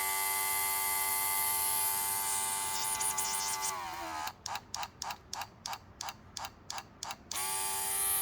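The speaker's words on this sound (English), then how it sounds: "is a cordless air compressor." Small cordless portable air compressor running: a steady, close mechanical whine with a droning hum, then about eight quick rhythmic pulsing bursts before the steady tone returns.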